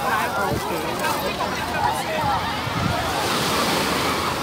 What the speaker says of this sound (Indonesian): Semakin sore semakin besar ombaknya.